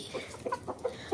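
Chickens clucking in short, separate bursts, several soft clucks spaced unevenly, close by and fairly quiet with no talking over them.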